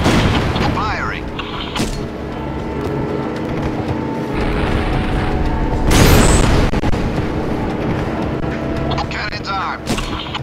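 A tank's main cannon fires in the Syphon Filter: Logan's Shadow video game with one heavy, booming blast midway through, surrounded by rumbling battle noise and clipped radio-style voice chatter.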